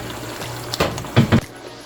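Water splashes into a hot pan of fried chicken for a Nigerian tomato stew, giving a few short hissing, bubbling bursts over a low background hum, with no speech.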